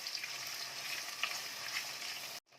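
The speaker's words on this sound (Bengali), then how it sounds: "এইবার 3টে ডিম আমি এর মধ্যে দিয়ে দিলাম, দিয়ে ভালোভাবে এটাকে এখন ভাজবো।" Three eggs frying with garlic in a pan, a steady bright sizzle that holds close and even for most of the stretch before cutting off abruptly near the end.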